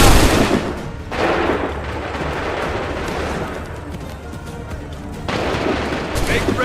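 Musket volley fired by a line of soldiers in Assassin's Creed 3, a loud booming crack followed by lingering rumble and battle noise, with a second blast near the end.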